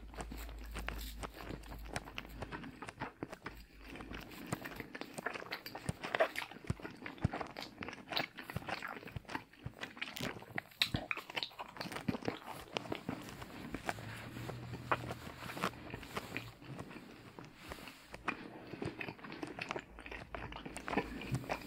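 Papa John's pizza twists with pizza sauce are eaten close to the microphone, with soft, quiet chewing and crunchy bites continuing without a break.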